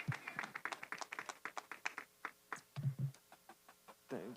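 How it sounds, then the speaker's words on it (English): A small crowd at a post-fight boxing press conference claps in a short, uneven round of applause, the separate hand claps sharp and fairly close. "Round of applause to the two champs."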